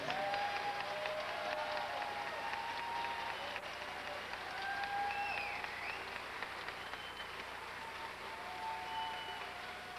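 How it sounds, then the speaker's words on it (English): Warm, steady applause from a pageant audience at a Miss Gay America show, continuous clapping through the whole stretch with a few faint shouts and cheers rising above it. "Give him a warm round of applause."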